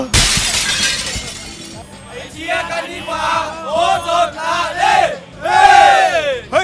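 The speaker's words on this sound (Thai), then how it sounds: "วันนี้ขอเสียงดังๆให้ลั่นเชียงรายนิดนึงได้ไหม" Chiangrai United football fans at a Thai Premier League stadium yell and cheer loudly close by. A harsh burst of noise opens, then rising, whooping shouts follow in waves, and someone speaks among them.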